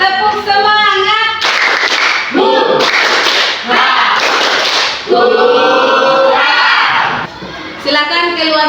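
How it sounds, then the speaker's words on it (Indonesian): Students in a classroom repeat a rhythmic spirit clap, loud patterned bursts of hand claps alternating with energetic chanted group voices, close and lively. "Nah, sekali lagi, tepuk semangat."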